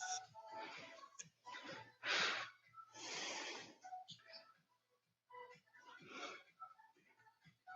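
Heavy, ragged breathing after a total-body strength workout: gasping inhales and puffing exhales that come in bursts with short pauses, fairly close and moderately loud, with no talk.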